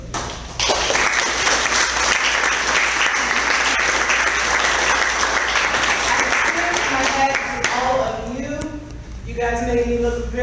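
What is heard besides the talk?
dinner guests applauding themselves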